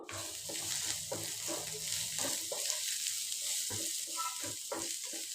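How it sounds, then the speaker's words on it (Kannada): Chopped onion and capsicum fry in a pan on high flame for soya chilli, giving a steady sizzle broken by repeated scraping and stirring knocks, with a faint voice in the background. "ಹಾಫ್ ಕಪ್ನಷ್ಟು ಕಟ್ ಮಾಡಿದ ಈರುಳ್ಳಿ, ಹಾಗೆ ಕಟ್ ಮಾಡಿದಂಥ ಕ್ಯಾಪ್ಸಿಕಮ್ ಒಂದು 1/2 ಕಪ್ನಷ್ಟು ಹಾಕ್ಕೊಂಡು ಫ್ರೈ ಮಾಡ್ತಾ ಇದ್ದೀನಿ"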